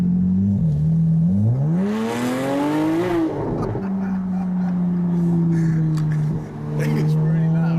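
A Porsche 981 Boxster S fitted with an Armytrix valved exhaust revs loudly up and settles back to a steady drone, with a strong rising sweep mid-clip and voices talking over the engine throughout.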